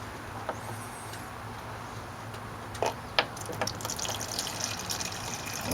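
Nitric acid trickles from a bottle into a plastic beaker, a quiet thin pour with a few small splashes and clicks against a faint background hum, no speech.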